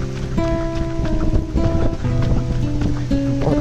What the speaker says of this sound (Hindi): बहुत तगड़ी बारिश, पानी भी हो रहा है